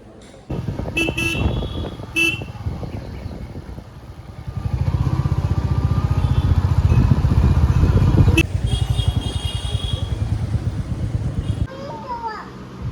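A motorcycle engine idles and revs nearby with a steady low rumble, a horn toots briefly, and adults and someone talk over it.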